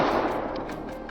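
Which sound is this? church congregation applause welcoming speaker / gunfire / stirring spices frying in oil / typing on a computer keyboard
gunfire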